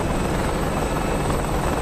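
An attack helicopter in the DCS flight simulator video game drones with a loud, constant rotor and engine roar, close and steady, with no voices over it.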